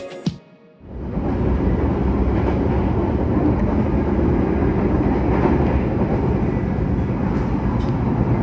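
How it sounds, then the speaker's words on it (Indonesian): Mataram passenger train hauled by a CC203 locomotive pulling out of Solo Balapan station, a sudden loud, sustained rumble of engine and rolling wagons that holds steady after a brief quiet start. "kereta api Mataram diberangkatkan dari stasiun Solo Balapan"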